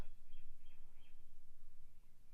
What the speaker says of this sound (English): I hear the birds outside as I say the sound of the universe